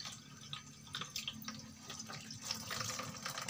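Vegetables, including okra, are rinsed under a running tap at a kitchen sink, giving a steady close splash and patter of water with small irregular drips throughout and no talking.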